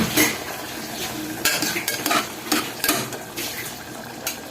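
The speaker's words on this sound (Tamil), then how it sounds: "இன்றைக்கி எண்ணெய், வெங்காயம், தக்காளி, இஞ்சி பூண்டு பேஸ்ட்டு, மட்டனு எல்லாம் போட்டு குழம்பு செய்கிறேன்." Mutton curry cooking in a pot with oil, onion, tomato and ginger-garlic paste, a spoon stirring and scraping in steady bursts over a soft sizzle, fairly close and with no talking.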